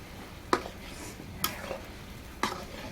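Onions being stir-fried for a chital fish curry, with a steady low sizzle and three distinct scraping stir strokes spaced about a second apart, close and moderately loud with no talking.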